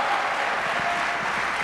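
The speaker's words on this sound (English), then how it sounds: "the big applause break" A conference crowd breaks into dense, sustained applause, a steady wash of many clapping hands heard from within the room at moderate loudness throughout.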